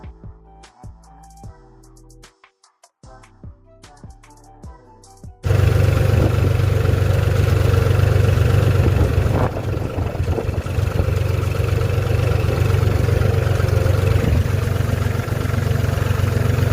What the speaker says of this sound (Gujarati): તો હાલો ટ્રેક્ટર અહીંયા હાલે છે